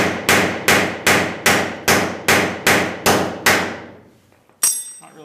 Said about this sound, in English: it's a bit challenging to swing the hammer